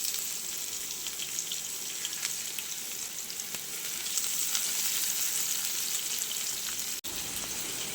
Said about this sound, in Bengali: পেঁয়াজ কুচিগুলো দিয়ে দিলাম।